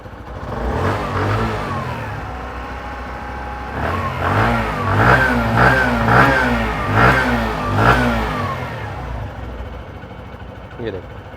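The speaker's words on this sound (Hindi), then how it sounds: "इंजन साउंड, इसका मुझे थोड़ा सा साइलेंट लग रहा है इंजन प्लेटिना का" A Bajaj Platina 110 motorcycle engine runs close by with a steady mid-pitched thrum, revving up and down in several rising swells, while someone talks over it.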